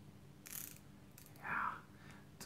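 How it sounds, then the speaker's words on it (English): The rotating bezel on a Seiko Orange Monster dive watch gives two short, quiet bursts of ratcheting clicks, close-up and alone. "Some bezel action."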